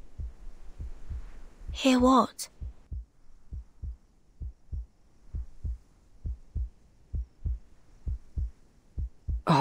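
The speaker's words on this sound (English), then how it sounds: "A heartbeat. Right outside the door." Steady, regular heartbeat thumps from just outside a door in a game story scene, soft and repeated throughout, briefly interrupted by a short spoken question.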